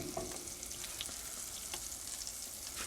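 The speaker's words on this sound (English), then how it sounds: "you can hear the butter sizzling" Butter sizzling in a pan ahead of onions going in for caramelizing, a steady fine crackle and hiss with scattered small pops, close and unbroken, no voices.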